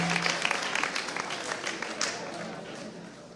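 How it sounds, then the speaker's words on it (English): Applause from a school audience at a spoken word poetry competition, a burst of clapping that gradually thins and fades over a few seconds, with some voices mixed in. "Let's give Sarah a round of applause."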